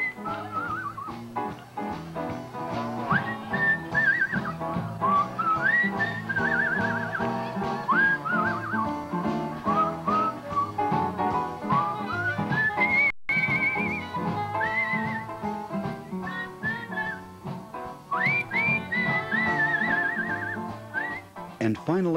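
Someone whistles a bright, lilting melody over a musical accompaniment at a whistling competition, loud and continuous throughout.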